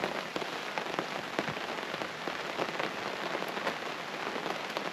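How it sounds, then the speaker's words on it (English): Light rain falls steadily at a lakeside campsite, a dense, even hiss of drops striking close surfaces, with scattered louder individual plops and no voices. "when it's lightly raining like this, having a fire, I don't know, makes the rain kind of fun"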